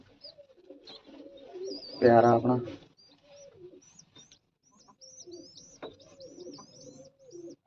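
Soft pigeon coos and chirps repeat in the background while a person speaks briefly nearby; the birds continue faintly after the talking stops.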